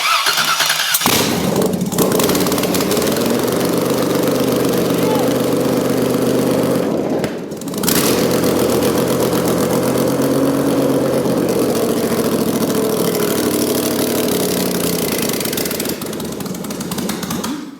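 A loud, close small engine runs with a rough, uneven misfire after starting, roaring continuously for about seventeen seconds with a brief dip in the middle before resuming.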